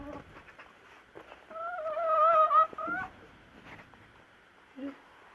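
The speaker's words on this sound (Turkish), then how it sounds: "Tavuk değişik değişik sesler çıkarıyor." Backyard chickens near an egg-laying time make a clear, tonal squawking call of a few notes, with softer clucks around it and a brief further call at the end.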